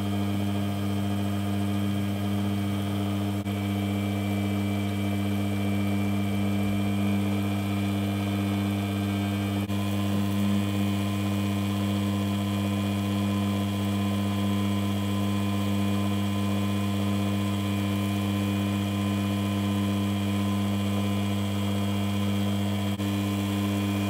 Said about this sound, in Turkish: Motorumu tekrar çalıştırıyorum.